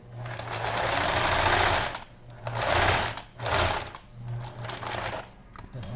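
Sewing machine stitching a children's felt fox bag, loud close bursts of rapid rhythmic needle clatter with short pauses between runs.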